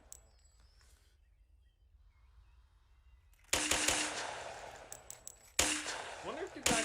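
A rifle-round weapon fires in a video game after about three and a half seconds of near silence: two loud, close bursts with sharp onsets that decay into a noisy roar.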